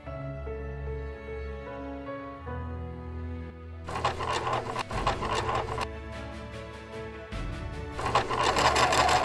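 A sewing machine top-stitches pleats on a skirt, its needle chattering in rapid bursts that start and stop, building louder over a low musical hum, with no talk.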